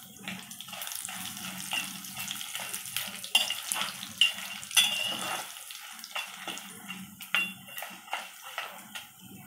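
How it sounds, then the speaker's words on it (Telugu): Dried red chillies and cumin sizzle and crackle in hot oil, a steady bright frying hiss with scraping stirring strokes, close and moderately loud with no talk. "ఇప్పుడు ఎండుమిరపకాయలు వేసుకున్నాం."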